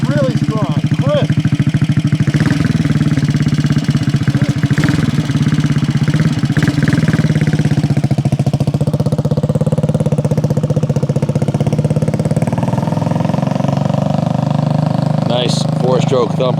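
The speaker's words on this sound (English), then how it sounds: "Nice 4-stroke thumper." A 1968 Harley-Davidson 250 Sprint four-stroke single idles steadily with a loud, even thumping beat and some mechanical clatter, while someone talks over it at times.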